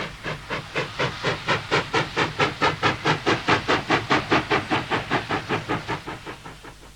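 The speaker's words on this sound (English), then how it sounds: "a huge locomotive built for South African Railways by the North British Works in Glasgow, Scotland in 1953" A huge South African Railways steam locomotive, built by North British Works in Glasgow in 1953, chuffs steadily in a fast, regular beat of hissing exhaust blasts heard close from the footplate, fading slightly toward the end.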